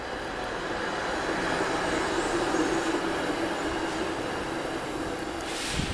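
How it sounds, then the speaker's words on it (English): A streetcar passes by on its tracks with a steady, loud rolling rumble and grinding rail noise, sustained and even for several seconds, with a faint high wheel squeal near the end. "Oh, here comes another streetcar."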